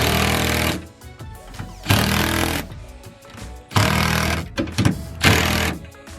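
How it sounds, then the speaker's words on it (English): Milwaukee M12 Fuel impact driver with a magenta Harbor Freight 10mm socket running bolts home while installing tow mirrors on a Cummins truck: loud bursts of rapid hammering in several runs separated by short pauses, close up and without talk. "And then you take your Milwaukee Fuel M12 zippy gun, make sure it's going the right direction."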